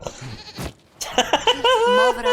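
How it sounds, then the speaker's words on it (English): A goat bleats in Dragon Age Inquisition, with a short wavering bleat followed by a longer, strongly voiced bleat that sits close and loud and ends the moment. "we discovered this man attacking the building with a goat"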